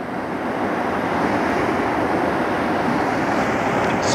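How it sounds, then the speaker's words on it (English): Ocean waves break on a rocky shore along a cliff, a loud continuous rushing wash of surf with wind noise, close and steady, with no voices. "Just sound of the waves, baby."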